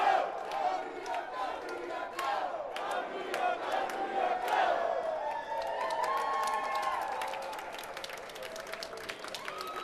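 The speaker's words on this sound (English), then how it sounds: "The crowd is fired up" A fired-up crowd cheers and yells at a market close marked by three gavel strikes, with dense whoops and shouts going on for the whole stretch, loud and close, and scattered claps in the mix.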